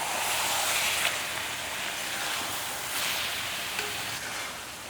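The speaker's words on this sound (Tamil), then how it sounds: "கிளறும் போது இந்த மாதிரி கிளறி விடணும்." Blood masala fries in a pan while being stirred, producing a continuous close sizzle with soft scraping swishes of the spoon rising and falling.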